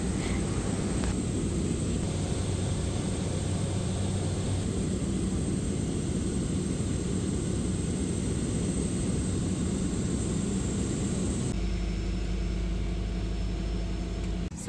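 Cabin drone of a small airplane in flight over Guyana's rainforest, a loud, steady engine roar filling the whole clip without letup, its tone shifting near the end as a deeper, harsher hum takes over.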